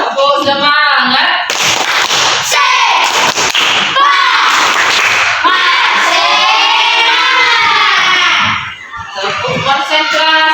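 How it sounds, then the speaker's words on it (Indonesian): Children in an Indonesian classroom perform a rhythmic 'tepuk semangat' spirit clap, sharp group claps punctuating a loud, close chanted call-and-response of voices. "Tepuk semangat."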